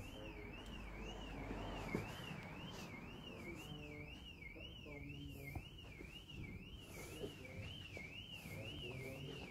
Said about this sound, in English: Someone's car alarm's going off.